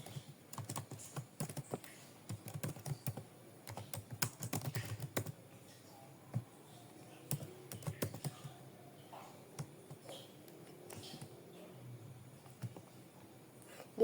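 Typing on a computer keyboard while filling in a web form: irregular bursts of clicky keystrokes, close and fairly quiet, with pauses between runs and no talking.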